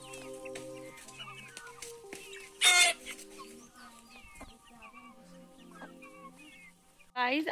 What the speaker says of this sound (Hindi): और अब मैं दिखाती हूँ आपको अपनी मुर्गियाँ।